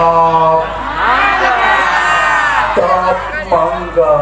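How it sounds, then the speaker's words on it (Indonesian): An audience at a lively children's show erupts in loud, sustained cheering and whoops, with voices shouting over the crowd noise. "Nah, tepuk tangan."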